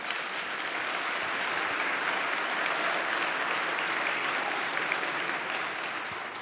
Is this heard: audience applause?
yes